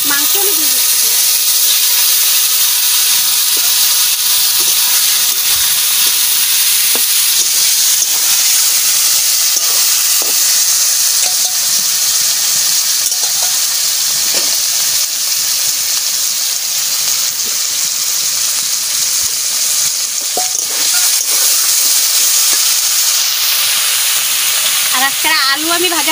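Meat frying in hot mustard oil with cumin and bay leaf, a steady loud sizzle and hiss running continuously throughout with no break.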